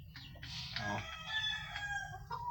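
Black Australorp chickens at close range, clucking and a rooster-like crowing call rising and falling over a couple of seconds, with a quiet background hum.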